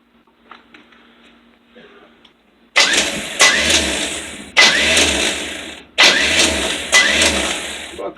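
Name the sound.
starting a van's 20-year-old engine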